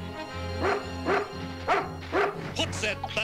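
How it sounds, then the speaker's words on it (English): Animated dog from the 1987 G.I. Joe film barking in a run of five or six sharp, evenly spaced bow-wows over a low steady hum, ending in a few quicker yips. "That's my dog, Order. He's trained to sniff out explosives."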